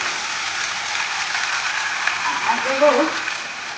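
Pointed gourd paste dropped into a pan of lightly fried onion, Bangladeshi potol bata: a steady bright sizzle and hiss of frying, with a voice speaking over it near the end.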